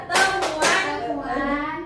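Women at a family financial management session perform a rhythmic clapping chant, with a few loud, close claps followed by group voices chanting.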